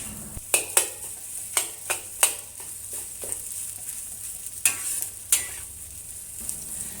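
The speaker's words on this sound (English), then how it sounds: "Continue stir-frying the egg and rice and break up the lumps of rice with the wok spatula." Garlic fried rice with egg sizzles in a hot wok while a metal wok spatula scrapes and clanks against it, breaking up rice lumps in a series of sharp, irregular strokes.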